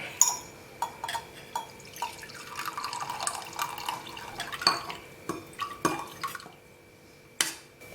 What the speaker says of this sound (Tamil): இப்போ இந்த தண்ணியை அப்படியே எடுத்துடலாம்.